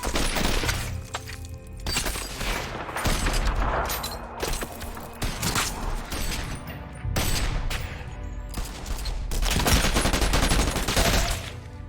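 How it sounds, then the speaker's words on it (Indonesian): Film gunfight with bursts of rapid gunfire, sharp shots and shattering impacts coming in dense volleys, loud and close, with no talk. "Dan akhirnya terjadilah tembak-menembak di antara mereka."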